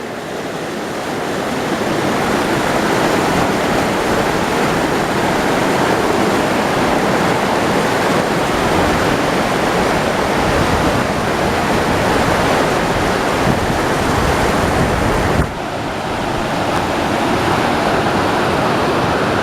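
Wallace Creek on the High Sierra Trail rushes loudly and steadily, a close, continuous roar of flowing mountain water with no voices and only a brief dip near the end.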